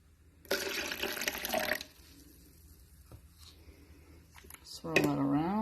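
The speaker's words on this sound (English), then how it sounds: "Next, I'm going to add a little cool water." Cool water pours and splashes into a cup of grape-flavored Herbalife boosted tea, a loud rushing burst lasting about a second, followed by quieter handling and a voice near the end.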